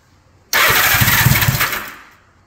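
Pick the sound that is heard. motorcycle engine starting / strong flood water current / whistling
motorcycle engine starting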